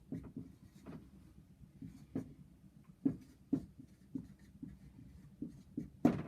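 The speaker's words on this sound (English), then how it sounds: "I'll write that on." Marker or chalk writing on a board during a chemistry lesson: soft scratchy strokes and taps in an irregular rhythm, fairly faint, with no talk.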